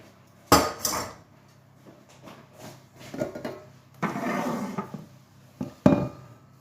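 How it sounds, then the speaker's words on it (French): A metal whisk knocks against a pot of crème brûlée custard as it is lifted out: sharp clinks and scrapes, then a clatter as it is set down nearby. "je vais enlever mon fouet"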